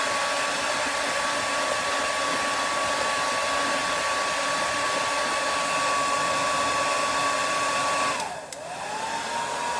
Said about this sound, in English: I've been using the blow dryer the whole time.